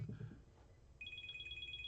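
A phone ringtone starts partway through, a steady repeating electronic tone pattern that is quiet and fairly clear over low background noise.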